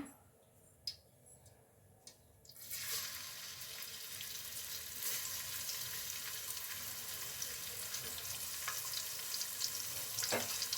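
Garlic drops into hot oil and starts frying for pepper chicken, a near, steady sizzle that jumps in after a quiet start with a couple of light clicks and continues with occasional stirring taps.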